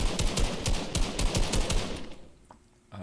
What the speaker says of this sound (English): So first we have the original Old Faithful assault rifle.